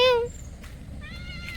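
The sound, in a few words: cat meowing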